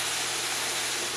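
Liquid poured into a hot pan of crisp pan-fried vegetarian pot stickers gives a steady, close hiss of sizzling and steam that holds evenly throughout, with a brief brighter burst at the very end.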